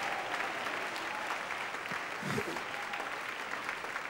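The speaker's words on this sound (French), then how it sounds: "fort l'applaudissement pour le Seigneur" A church congregation applauds at a revival service, a fairly faint but continuous patter of many hands with a voice faintly present underneath.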